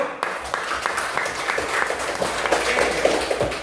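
A classroom of students claps for a classmate, a brief steady round of scattered hand claps at moderate level filling the room, with no talk over it.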